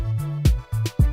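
A short loop of a beat made in FL Studio 20 plays, with booming kick and bass hits punching in a repeating rhythm under a sustained bass tone and no vocals.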